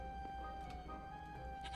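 Goat bleating in the Minecraft video game, a short animal call heard over steady game background ambience with a brief brighter burst near the end.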